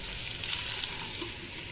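Thinly cut potatoes, half a kilo, fry in masala in a pan, giving a soft, steady sizzle with faint crackles and no talking.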